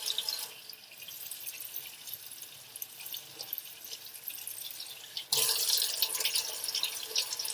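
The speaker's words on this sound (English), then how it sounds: "you can rinse the soap off." Tap water runs steadily into a sink as soap is rinsed off hands, a close, even splashing hiss that grows louder and brighter partway through.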